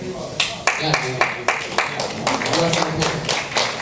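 Audience applause at an Electronic Summer question-and-answer session, a run of distinct sharp claps that thickens into steady clapping, close and fairly loud, with murmuring voices under it.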